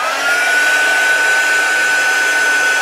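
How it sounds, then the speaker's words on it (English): Heat gun blowing steadily while drying paper tags for junk journaling, a loud, close, continuous whirring hiss with a faint high whine and no talk. "I'm just going to put on my heat gun and dry off those tags."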